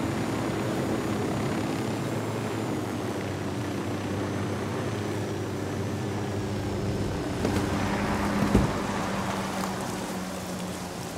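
A helicopter in Ghost Recon Wildlands drones steadily with a low rotor thrum and a hissing, rain-like wash, holding an even level throughout with a brief swell near the end.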